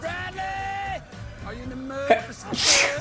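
A single sharp sneeze bursts out near the end, following a person speaking in a noisy room.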